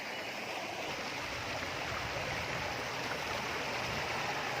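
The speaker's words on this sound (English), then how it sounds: "So you can hear the sound of the river." A small mountain river flows in a steady, broad rushing wash, loud and unbroken, heard alone without voices.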